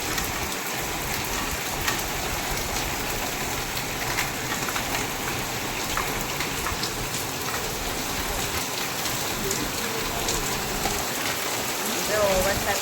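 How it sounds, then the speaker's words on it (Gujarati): Steady rain falls over a farm orchard in Gujarat, a dense, even hiss of drops on surfaces that runs unbroken throughout at moderate loudness, with no voices. "કડીકમાં સરસ મજાનો વરસાદ આવી ગયો"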